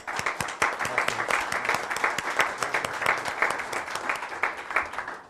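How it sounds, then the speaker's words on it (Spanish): Warm applause greets a special guest at an energy reform debate panel, many hands clapping in a lively, crisp, uneven rhythm, close and continuous for several seconds. "un caluroso aplauso"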